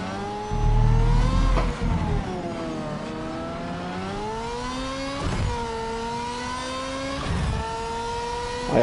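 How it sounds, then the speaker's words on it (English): A race car in Project Cars 3 revs loudly, its engine pitch climbing and dropping through repeated gear changes with brief dips between shifts, a continuous harsh whine with no talking over it. "I know this car is loud, especially if you have your headset on"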